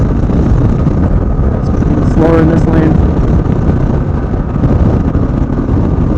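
A Kawasaki KLR 650 motorcycle with an aftermarket 685 kit exhaust cruises on a highway, its steady engine drone blending with loud continuous wind roar throughout, while a rider briefly speaks over it.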